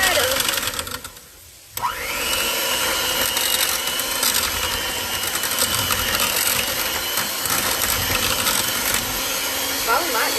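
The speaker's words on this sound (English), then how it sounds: "I'm going to use the mixer. Mix them up good." An electric hand mixer whirs in a bowl of milk for pork chop batter, a loud, steady motor drone that starts after a short pause and runs continuously.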